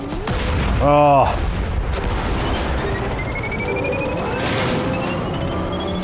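A Scorch Cannon firing in Destiny 2, a heavy boom followed by a rumbling blast and lingering explosive noise amid game effects, with people talking and a brief exclamation.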